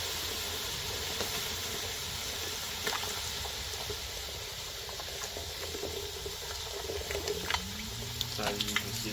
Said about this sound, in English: and then we'll add some water to it.